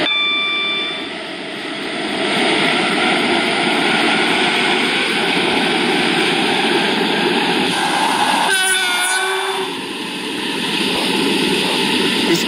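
A train runs steadily in the video game Stepford County Railway, with continuous rolling rumble and hiss throughout and a brief burst of brake squeal or horn tones near the end, loud and close.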